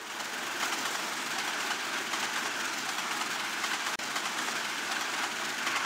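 A train runs along the rails with a constant, loud, broad rumble that holds steady throughout, with one brief dropout near the end.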